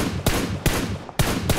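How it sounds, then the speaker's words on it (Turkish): Gunfire in the PUBG Mobile video game: four sharp, evenly spaced shots crack out over a steady background of game sound, loud and close, with no talk. "Ön taraftan sıkanlar var."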